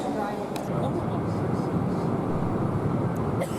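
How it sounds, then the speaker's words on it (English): Steady, loud cabin drone inside a plane on a flight from Houston to Jacksonville, a continuous broadband rumble filling the whole stretch with no break, a faint click or two on top. "We boarded on the plane,"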